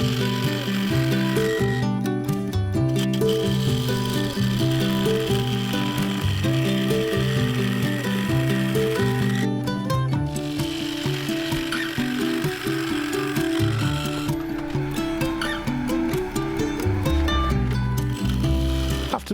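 A wood lathe turns a cast bowl blank while a mid-sized carbide tool cuts it, giving a continuous scraping and rubbing with rhythmic mechanical ticking, loud and steady for the full stretch.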